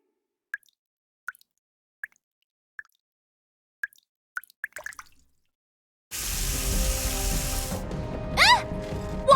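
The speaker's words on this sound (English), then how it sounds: "Water's coming from the ceiling!" In the video game Goddess of Victory: Nikke, water drips from the ceiling as a series of sparse, distinct plops in a quiet room, then a loud rushing gush of water takes over with shifting tones.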